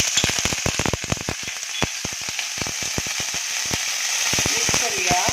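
Peas with asafoetida, garlic paste and ginger paste sizzle steadily in a pan on a low flame, with dense crackling pops and spitting as they are stirred.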